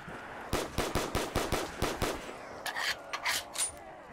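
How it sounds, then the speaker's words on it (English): Gunfire in Black Ops 3 custom zombies, a Pirates of the Caribbean map: a rapid series of about eight evenly spaced loud shots, followed by a few scattered sharper bursts and clatter. "I'm just gonna shoot him."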